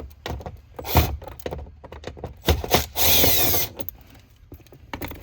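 Two 10mm screws coming out of the fuse box cover on a 4th-gen Toyota 4Runner, with short power-driver bursts, one sustained whir, and metallic ratchet clicks and handling clatter close by.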